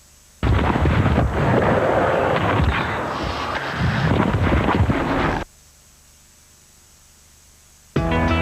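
Fireworks go off at Rome's Olympic Stadium during a 1999/2000 Serie A match between Lazio and AC Milan, a dense, loud roar of bangs for about five seconds that cuts off abruptly.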